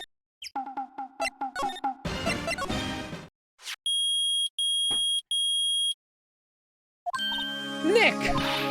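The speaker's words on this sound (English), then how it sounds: "It's beeping! The metal detector found something! Sure is loud enough about it." A metal detector in Phoenix Wright: Ace Attorney beeps loudly and steadily in three evenly spaced bursts, set among game-like chimes, tones and clattering effects.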